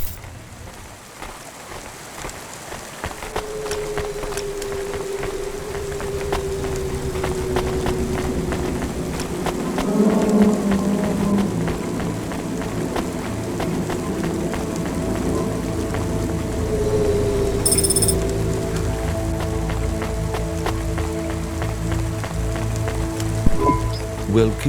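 Rain in the video game Cloudpunk, falling steadily outside a restaurant in a futuristic city: a constant hiss of drops on surfaces beneath humming ambient tones and dialogue, with a brief bright chime near the end.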